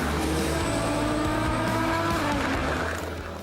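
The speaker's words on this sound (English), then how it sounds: "The race is head-to-head, with the 4 LMP1 cars constantly jockeying for position." LMP1 prototype race cars at a Porsche endurance race roar continuously on track, loud engine whine with shifting pitch as cars jockey for position, fading slightly at the end.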